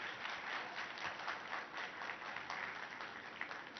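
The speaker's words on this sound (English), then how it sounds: "let's give him a very warm round of applause" Conference audience in Mumbai breaks into sustained applause, a dense, even wash of many hands clapping at low volume, with no speech over it.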